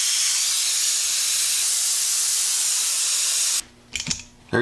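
An air tool on a compressor line fitted with an in-line oiler sprays compressed air in one loud, steady hiss that stops abruptly, followed by a few faint mechanical clicks.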